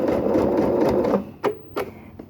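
A home sewing machine runs a long straight stitch through quilt-as-you-go fabric, its busy motor whirr steady and close for about a second before it stops, followed by a few short clicks and bursts of handling.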